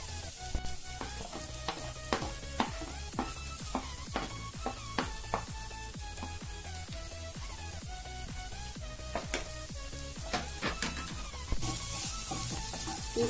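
Spices and coriander frying in a pan while being stirred, with a soft steady sizzle under repeated scraping and tapping of a spoon against the pan.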